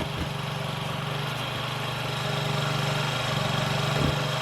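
A 2017 Honda Ruckus scooter engine idling far too fast, near 3,000 RPM, with a steady, buzzing, mower-like drone and no one talking.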